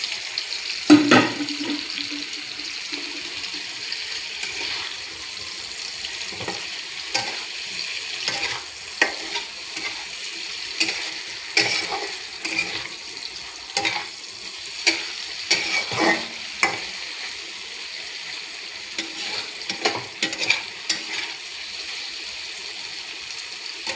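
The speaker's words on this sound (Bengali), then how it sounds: "এবার আমি পনিরটা ভেজে নেব" Paneer fries in a pan with a continuous hiss of sizzling oil, punctuated by repeated spatula scrapes and taps over about twenty seconds, with no talk.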